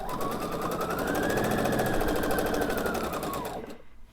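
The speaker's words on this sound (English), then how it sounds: "I know I'm sewing it on the correct side" A sewing machine stitches triangle fabric pieces together for a pillow, its needle hammering in a fast, steady, loud run that carries on without pause and then cuts off just before the end.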